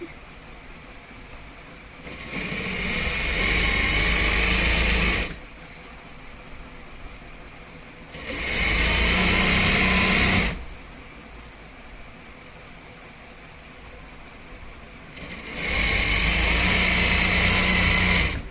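An electric sewing machine stitching ladies' pants runs in three loud, steady bursts of whirring, each lasting about three seconds, separated by quiet pauses.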